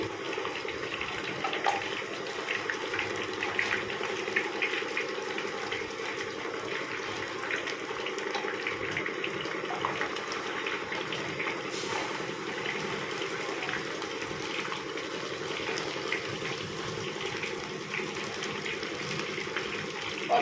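Ghevar batter trickled little by little into hot oil, giving a steady, broad frothy sizzle and bubbling that holds evenly for about twenty seconds with no talking over it.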